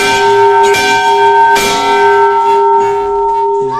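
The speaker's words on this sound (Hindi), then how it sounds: "घंटी बजा देते हैं" A brass temple bell at the Chamarkhan Golu Devta temple is struck several times, close and loud, each clang ringing out with long, bright, sustained overtones that overlap the next strike.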